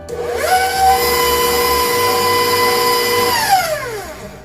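An electric mixer beats eggs one at a time into fruitcake batter, giving a loud, steady motor whine that starts, holds for several seconds and winds down at the end, close up with no talk.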